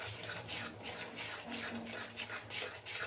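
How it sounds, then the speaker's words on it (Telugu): Faint, repeated scraping and rubbing strokes of a utensil stirring coconut cake batter with cardamom powder and sugar in a bowl, rhythmic and close. "ఇది కూడా బాగా కలపాలి"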